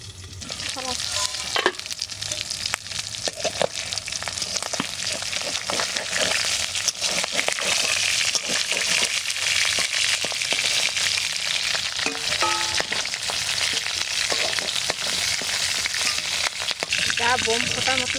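Small river fish frying in hot oil in a home kitchen, a loud, continuous sizzle packed with sharp sputtering pops that holds steady from start to finish.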